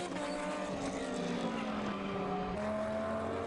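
A Blancpain Lamborghini tailing a Ferrari through a tight left-hander at Navarra in 2011 endurance racing: loud, continuous engine roar with shifting pitch and a gear change near the end, up close with no talk over it.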